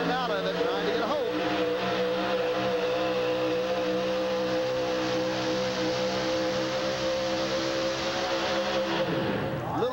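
Fuel-injected 525 cubic inch Keith Black motor roaring in a short-wheelbase monster truck at a 1989 USHRA Hartford arena show, loud and sustained with throttle easing in and out, an announcer talking over it.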